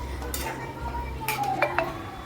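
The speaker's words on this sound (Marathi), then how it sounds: "त्याच्यावर एक प्लेट ठेवून द्यायची आहे" A metal kadhai of cluster bean curry gets a plate set over it as a lid, giving a couple of sharp clinks and a scrape of metal on metal midway, close by against faint kitchen hum.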